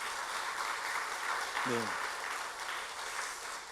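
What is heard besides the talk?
church congregation applauding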